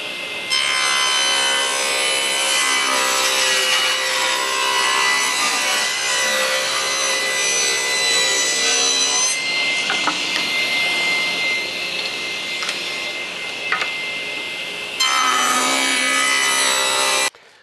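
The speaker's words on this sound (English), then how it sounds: "Now I've set the table saw and I've had to remove the blade guard on because I can't get in close enough with it on." A table saw with its blade guard removed trims wood for a wooden pizza peel, giving a loud, steady whining cut with strong harmonic tones that runs almost nonstop, briefly shifting in pitch mid-cut before resuming.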